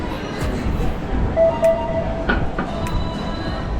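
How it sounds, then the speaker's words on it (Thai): A Gold Coast tram in Surfers Paradise at the end of a pedestrian street, rumbling past nearby with rail clatter, a brief high squeal and a few sharp clicks. "ตรงนี้คือรถรางนั่นเองนะครับ"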